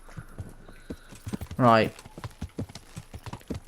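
Horse hooves clip-clop in Kingdom Come: Deliverance as a steady walking rhythm, with a short horse whinny in the middle and someone talking briefly.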